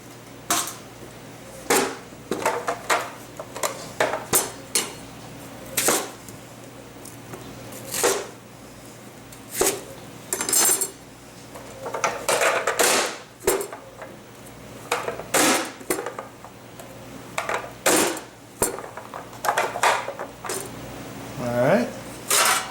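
Repeated sharp chopping knocks of an onion chopper cutting onions in irregular bursts, close by, with scattered clatter in between and light outdoor background noise.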